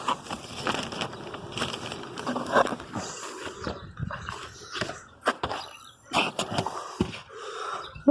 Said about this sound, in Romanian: Albine și iar albine.